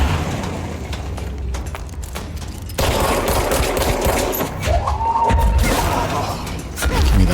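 Enemy shotgun fire in the video game Control: loud, dense bursts of blasts and impacts with crackling debris, sustained and close throughout.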